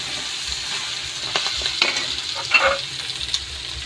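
Meat adobo frying in its own rendered oil in a pan, a close, steady sizzle with crackling pops and occasional stirring, with no one talking.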